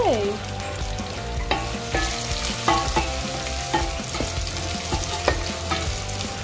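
Chopped onions sizzle and fry in hot oil for Filipino pork adobo, with a steady crackling hiss and repeated scraping stirs of a utensil against the pan at a loose rhythm, close up and alone.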